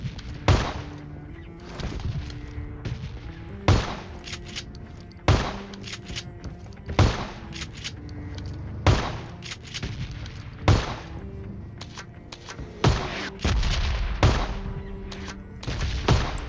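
Shotgun blasts in a video game, with about a dozen sharp, booming shots spaced one to two seconds apart over a low, steady game background.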